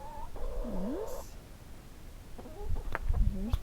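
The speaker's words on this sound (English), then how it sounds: "here's the chickens" Chickens, the hens that lay the farm's eggs, cluck and murmur in short irregular calls, fairly close, with low shuffling and handling noise around them and a brief tonal call near the start.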